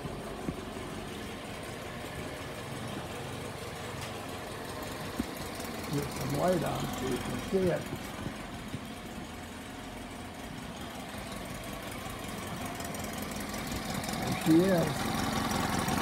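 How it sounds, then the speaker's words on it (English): A like-new four-stroke outboard boat motor idles steadily with a soft, even mechanical purr and light rhythmic knocking, while people talk nearby over it throughout. "Sweet little motor sitting here firm like a kitten"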